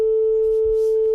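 One steady sine-like tone standing for a three-dimensional percept, sustained evenly for about a second with faint low background rustle beneath it.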